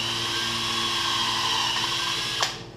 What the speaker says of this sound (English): so I'm drilling all the way through.